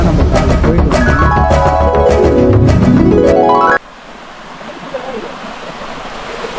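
In Kodaikanal, a waterfall seen from a distance makes a soft, steady rush of water that follows an abrupt cut from a loud musical passage.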